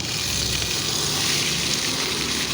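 Pumpkin, potato, carrot and eggplant fry together in hot mustard oil with dried chili, cardamom, cinnamon, cumin and peppercorns, giving a steady, dense sizzle that stays even and close throughout with no talking.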